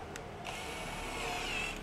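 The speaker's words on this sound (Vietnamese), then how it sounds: "Đấy nhá, để khoan tiếp cho mọi người xem." A cordless 16V drill with a 10 mm chuck whirs up and runs steadily as it bores a hole, a close, sustained motor whine after a brief pause, with no speech.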